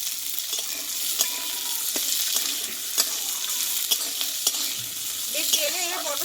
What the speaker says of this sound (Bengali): মটরশুঁটিটা আমি তেলে ভালো করে ভেজে নিয়েছি